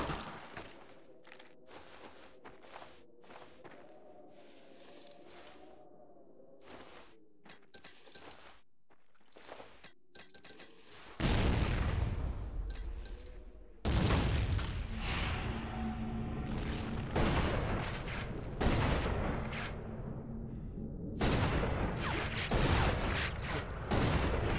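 Nazi soldiers' gunfire in the World War II shooter Medal of Honor: European Assault: rapid volleys of rifle and machine-gun shots with heavy booms, sharp and dense, growing louder and more continuous midway through.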